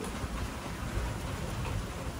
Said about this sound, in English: as the rain begins to get a little more intense, and there's a little more wind